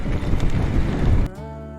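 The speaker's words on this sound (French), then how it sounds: "Oh le vent." Strong wind gusting against the microphone on a climb, a loud broadband roar filling the first second and a quarter before cutting to a quieter steady tone.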